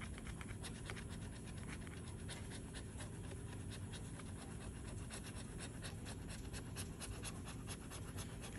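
A dog pants rapidly and steadily close by, with faint scratching and soft bumping in a quiet room and no talking.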